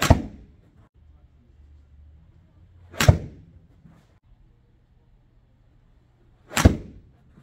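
TaylorMade P770 iron shots striking golf balls, three sharp, loud, separate impact cracks spaced a few seconds apart, each with a short ringing tail over a low background hum.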